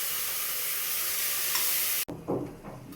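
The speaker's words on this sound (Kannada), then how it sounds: "ಬನ್ನಿ, ಇವಾಗ ಫ್ರೈ ಆಗಿದೆ ಚೆನ್ನಾಗಿ." Mushrooms sizzle steadily in a hot pan for mushroom biryani, a loud frying hiss that cuts off abruptly and gives way to a few quieter stirring scrapes and softer bubbling.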